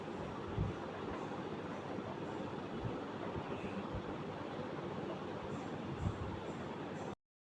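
The Vivek Express runs toward Jammu station with a steady, faint rumble of wheels and carriage noise heard from inside the train. A few soft knocks punctuate the sound, which cuts off abruptly at the end.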